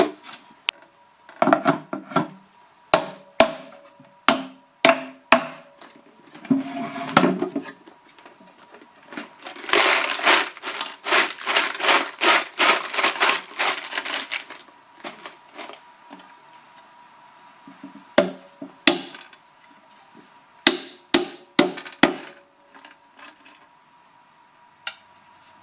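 Hammer tapping metal pieces into wooden hive boxes, sharp separated metallic knocks in irregular bursts, with a rapid run of taps in the middle and quiet gaps between.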